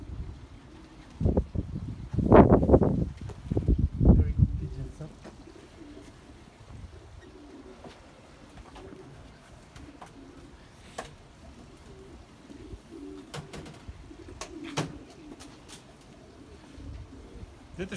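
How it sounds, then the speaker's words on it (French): Racing pigeons coo in a loft, with a loud cluster of low throaty coos in the first few seconds, then softer, scattered calls and rustling over a quiet background. "Dit is top pigeon Don Bravour."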